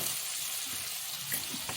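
Braised baby squid being stir-fried in a pan gives a steady, soft sizzle with faint scraping and stirring noises throughout, fairly close and with no voices.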